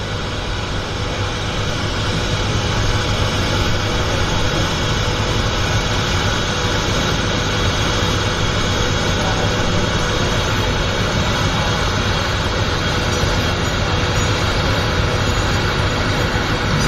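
Turboprop floatplane engine at Vancouver Harbour floatbase airport, a loud steady drone with a constant broadband roar and low hum that holds level throughout, close by and without talk.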